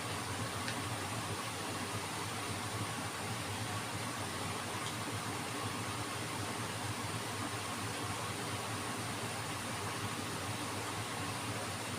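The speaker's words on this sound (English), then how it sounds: "The aircon is on in my room, that's why you can hear" Steady, even broadband hum and whoosh of a room air conditioner running continuously, unchanging for the whole stretch, with no voices.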